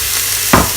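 Chopped carrot and red pepper in a pan for a vegan white bean soup, a soft sizzle broken by two quick, close stirring scrapes.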